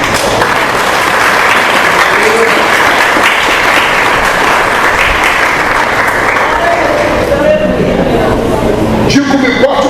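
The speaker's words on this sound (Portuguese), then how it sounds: "pode aplaudir a Jesus." A large crowd claps steadily and loudly for several seconds, a dense wash of applause, with a few voices mixed in near the end.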